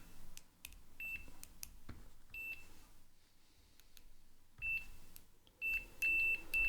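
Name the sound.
multimeter continuity beep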